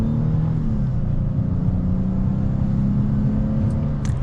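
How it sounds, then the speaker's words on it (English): A 2022 Dodge Charger GT AWD pulls away at half throttle, its engine holding a steady, droning hum with a faint transmission whine that stays constant and close throughout. "we'll get up to some speed, half throttle it."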